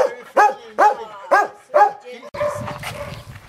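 A golden retriever barks at a pet resort, five sharp evenly spaced barks close by, followed by softer whimpering yips with background noise.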